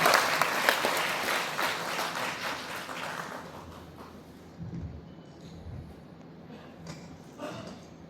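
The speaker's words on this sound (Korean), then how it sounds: "박수 한번 부탁드립니다" Applause from the audience at a sea literature award ceremony in a concert hall, clapping that starts fairly full, thins within about three seconds and trails off into scattered, quiet room noise.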